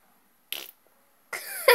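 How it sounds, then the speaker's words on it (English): A small, quick fart noise from someone playing Rocket League, heard as two short bursts close to the mic with a brief silence between them. "I did a mouse fart when he scored"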